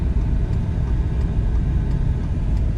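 A 2008 Dodge Ram Mega Cab diesel truck drives along, heard as a steady, loud low rumble and whirring road drone from inside the cab, continuous with no voices.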